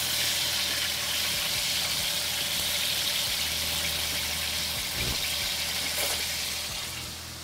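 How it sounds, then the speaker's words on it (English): Pickle-brined chicken frying in hot oil gives a dense, continuous sizzle that stays loud and even throughout, easing off slightly at the very end, with no talking. "That is quite a nice sound though, I will say. That frying sound sounds really perfect."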